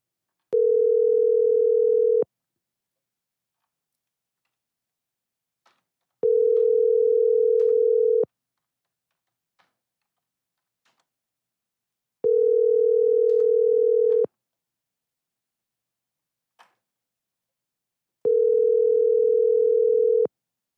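Telephone call ringing out with four long, steady two-second ring tones, evenly spaced by about four seconds of near silence, loud and alone.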